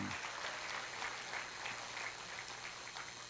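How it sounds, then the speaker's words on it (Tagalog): A church congregation applauds during a sermon, a steady, faint wash of many hands clapping together throughout, with no speech over it. "Pumalakpak ang bawat isa na nagsasabing merong right time si Lord sa akin."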